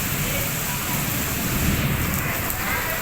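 Steady rain falls outdoors as a continuous broadband hiss with low rumbling underneath, even and fairly loud throughout with no pauses.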